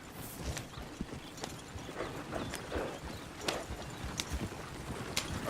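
Horse hooves clip-clop in a steady walking rhythm on a dirt road in Red Dead Redemption 2, moderately close and unaccompanied by talk, with a faint outdoor hiss behind.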